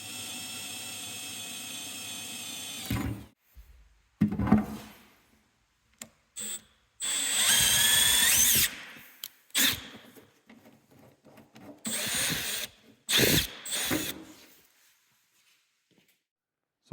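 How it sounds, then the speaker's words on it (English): Drilling pilot holes in steel rock sliders with a rotor-broach for a DIY mini-boatside build: a steady grinding whir runs for several seconds, then bursts of cutting, scraping and rubbing come and go between short pauses, fairly close, with no talk. "Drilled out the rest of the pilot holes with the rotor-broach"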